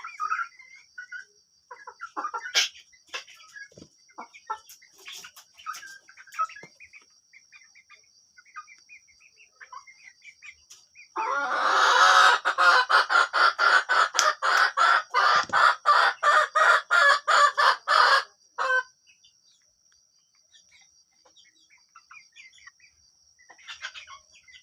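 Chickens on a farm give scattered soft clucks and chirps, then one bird breaks into a loud, rapid run of repeated calls lasting several seconds before the sparse clucking returns; close by, no talk.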